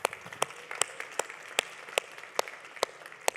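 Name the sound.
audience applause for speakers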